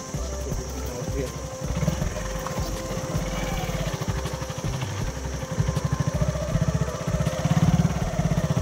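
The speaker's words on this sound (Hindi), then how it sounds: "खतरा जगह में बाइक चलाते हुए" A motorcycle engine chugs steadily up close while riding a dangerous hill road in Arunachal Pradesh, a continuous throbbing drone that grows slightly louder toward the end.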